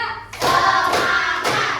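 A group of children claps hands together in unison on a count, three sharp, loud claps landing about half a second apart with no talk over them.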